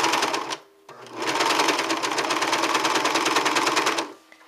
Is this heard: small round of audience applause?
no